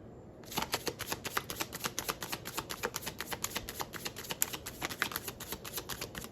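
A tarot card deck being shuffled up close: a rapid, dense run of crisp riffling card clicks starting abruptly and continuing steadily, fairly quiet and alone.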